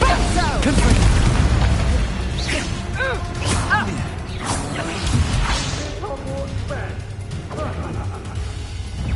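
A Confringo blasting spell bursts in Hogwarts Legacy on PS5, a loud booming explosive crash amid whooshing spell effects and a chaotic battle mix, with a voice calling out in the same stretch.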